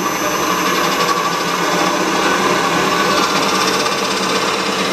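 A steady motor hum from an old Sydéric S 130 drill press spinning up to speed over about ten seconds, continuous and fairly loud with a whirring mechanical tone throughout.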